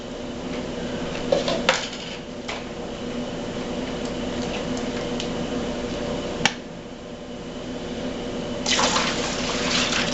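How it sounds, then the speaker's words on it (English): Apple raspberry juice concentrate being poured from cans into a bucket, a continuous liquid splashing and filling sound with a few clinks of cans, close and moderately loud, no talk. "Into that, I'm going to add 12 cans of the juice."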